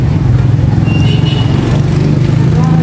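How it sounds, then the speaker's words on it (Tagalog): A motorcycle rides along a road with its engine droning loud and close in a steady, slightly pulsing rumble, with no pauses throughout. "Na tayo sa motor natin."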